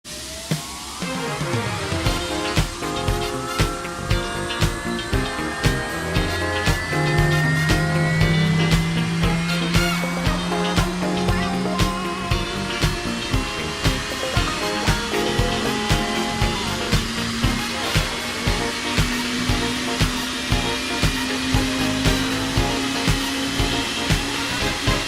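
A small straight-tail plane's engine drones through the takeoff roll, a loud, steady propeller hum that climbs slowly in pitch as power builds, with rhythmic thumps from the runway underneath.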